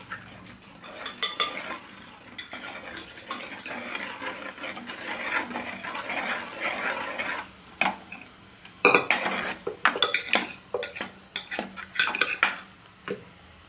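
A spoon scrapes and clinks repeatedly in a pan of roasted capsicum and spices for pav bhaji, starting gently and growing into louder, irregular clatters of stirring, with no voices.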